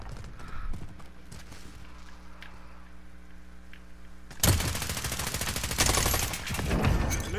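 Gunfire from the Call of Duty Warzone video game: a low hum gives way midway to a loud, sustained burst of rapid automatic shots that keeps rattling to the end.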